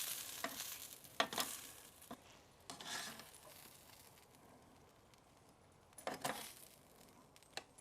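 Grilled peppers and vegetables pulled off a hot barbecue grill: faint, continuous sizzling broken by several scraping and clattering bursts from tools, close but quiet, with no voices.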